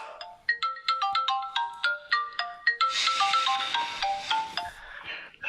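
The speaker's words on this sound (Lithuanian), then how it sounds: "per susirinkimus išsijunkim tą prakeiktą telefono garsą" A bright electronic telephone ringtone plays a repeated melodic pattern, loud and close, looping continuously for several seconds without any voices.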